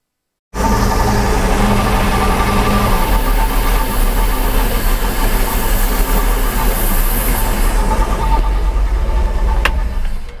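A Mercruiser 5.7L inboard boat engine runs steadily while being fogged during winterizing, a loud continuous engine drone with a low rumble that holds nearly constant for about ten seconds, with no talking.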